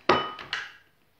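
A utensil clinks against a bowl while coconut oil and cocoa brioche batter is stirred, giving three close, ringing metallic knocks that fade quickly, with no talk.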